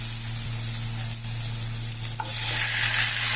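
Chicken pieces frying and being stirred in a pan with sautéed onion for chicken tinola, a steady close sizzle with scraping stir noises and a constant low hum underneath, no talking.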